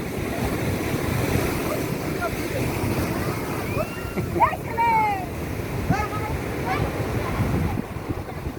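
Sea surf rolls in steadily at Digha beach, where the water has turned thick and muddy. The wash is continuous, with gusts of wind noise, some faint chirping and soft voices in the background.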